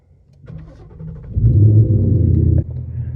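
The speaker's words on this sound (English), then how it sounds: "foot in all the way on the clutch, as you can see, and start it." A Ford Mustang with a manual gearbox and push-button start: a short starter whir, then the engine catches with a loud rumble before settling abruptly into a lower, steady idle.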